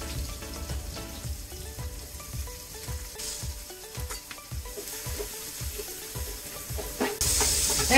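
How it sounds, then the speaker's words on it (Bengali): Thick-cut onions frying in oil in a pan for a Bengali potol bhaja, a steady close sizzle with small crackles and stirring scrapes, growing louder near the end. "এক মিনিটের মতো ভেজে নেব।"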